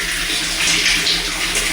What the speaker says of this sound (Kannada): ನೀರು ನೋಡ್ರಿ ಫಿಲ್ಟರ್ ಆಗಿ ಬರುತ್ತೆ